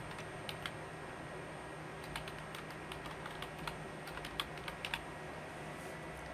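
An email address is typed on a computer keyboard, with quiet, irregular key clicks over a soft steady background hiss and no speech.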